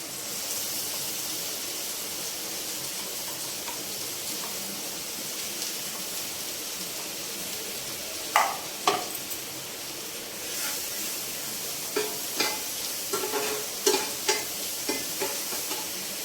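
Onion, ginger and garlic paste frying in a pan for egg masala fry, a steady close sizzle with a few sharp scraping stirs toward the end.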